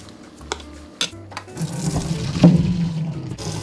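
Vegetables blanching in boiling water, with a few light knocks followed by close, steady bubbling and sloshing of water in the pot.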